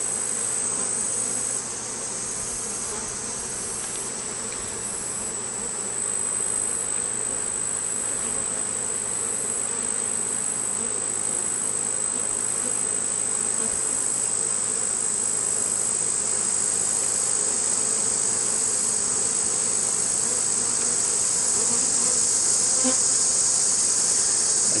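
Honey bees buzz steadily and loudly throughout a hive inspection, a dense continuous swarm drone close by with no voices.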